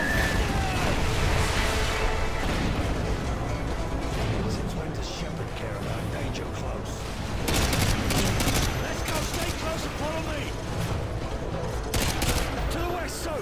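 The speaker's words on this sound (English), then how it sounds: "Fire mission. Target package Romeo. Danger close." Dense in-game battlefield barrage during an artillery fire mission in Call of Duty: Modern Warfare 2, with continuous loud gunfire, blasts and explosions rolling throughout, and voices shouting over the din.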